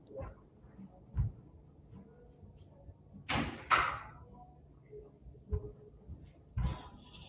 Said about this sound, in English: I'm gonna shut the door so the outside noise isn't coming in.